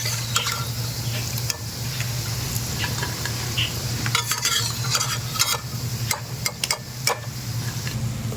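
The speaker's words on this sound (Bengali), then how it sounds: "তো সব বড়া আমার ভাজা কমপ্লিট দেখুন কত সুন্দর লাগছে" Palm fruit fritters (tal bora) fry in hot oil with a constant close sizzle, broken by scattered sharp clicks and scrapes of stirring in the pan.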